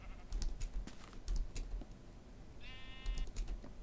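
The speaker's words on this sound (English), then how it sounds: "Sheep." Sheep bleat in the Minecraft video game, a single short electronic bleat partway through, heard over steady computer keyboard typing and clicking.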